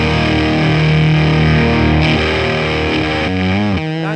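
Electric guitar through a Fuzz Face pedal powered by an MXR ISO-Brick with the voltage turned up for big headroom: a loud, thick, sustained fuzz chord rings out, then a few quick bending notes close the short phrase, with no voice.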